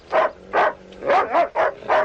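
A dog barks six times in a quick, uneven series, loud and close, each bark short and sharp with brief gaps between, in a French-dubbed Magnum P.I. scene and no talking over it.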